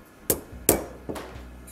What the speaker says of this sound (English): a perfect curve is hammered onto each blade